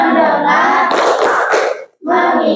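A class of children claps hands in unison during a rhythmic chant, sharp group claps running together over about two seconds, then a brief pause and a fresh burst, with children's voices mixed in.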